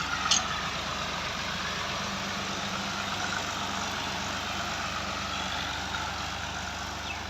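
A Ghazi tractor fitted with a back blade, its diesel engine running in a low, steady idling drone that holds constant and close throughout, with a faint brief knock near the start.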